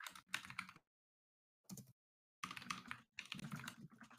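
Bursts of rapid computer keyboard typing during a laggy online typing race, loud and close, in irregular clusters separated by short silences.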